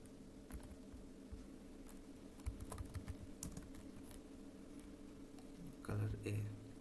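Someone enters a command at a Windows computer keyboard, a faint cluster of quick keystrokes followed by a firmer press. Soft speech and a low background hum run beneath the keys.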